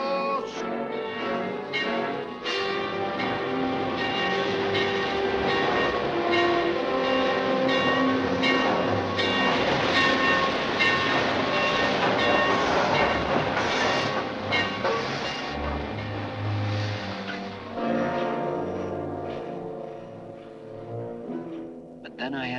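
A train runs steadily on its rails in a western film, a continuous rolling rumble with clattering wagons that carries on for the whole stretch, mixed under music and voices.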